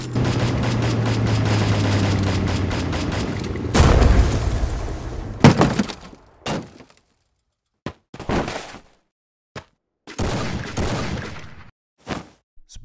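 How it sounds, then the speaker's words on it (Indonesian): Animated Free Fire battle with gunfire aimed at a car: a loud sustained barrage of shots and booms for several seconds, then a heavy blast, followed by short separated bursts of firing and whooshes with silent gaps between. "Tembak terus, Bang Yud, sampai mobilnya meledak."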